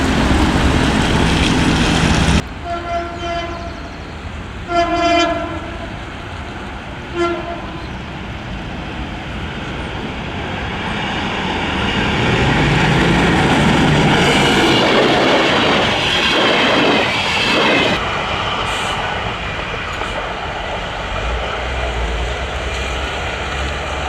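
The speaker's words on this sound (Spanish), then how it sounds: "esperando el tren número 2006 que acaba de salir de la estación Garín" Train number 2006 near Garín and the Ford plant runs past a level crossing, its horn blaring loud and close in several blasts before a sustained rumble and clatter of wagons rolling by.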